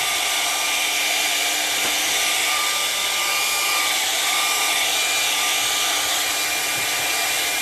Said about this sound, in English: I'm gonna blow dry